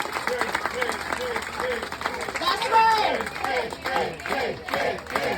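Audience claps after an alligator wrestling show on the Miccosukee reservation, a scattered, moderate round of applause under an announcer's loud voice over a PA, with crowd noise around it.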